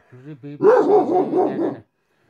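A dog lets out two short yips and then a run of rapid, rhythmic barks close by, loud and clear, before stopping abruptly.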